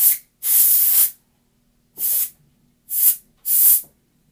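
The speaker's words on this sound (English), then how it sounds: "The cleaning duster, the pressurized air, the spray between all the balls" A can of pressurized air duster blasts into skateboard bearings in four sharp hissing bursts, the second long and the rest shorter, close and loud with silent gaps between.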